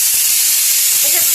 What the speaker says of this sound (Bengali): প্রেসার কুকারের ভিতরে আলু সেদ্ধ হচ্ছে